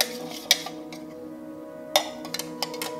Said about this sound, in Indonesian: Nah, ini aku akan masukkan santannya dan terus diaduk ya.